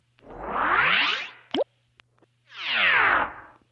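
Two smooth electronic tones sweep in pitch, one rising then one falling, separated by a small soft plop and faint ticks, quiet and close.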